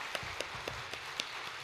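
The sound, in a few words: congregation applause in church worship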